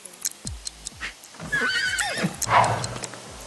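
A horse in The Sims 3 whinnies while its hooves clip-clop, with scattered ticking game sounds before a clear neigh in the middle and a louder call near the end.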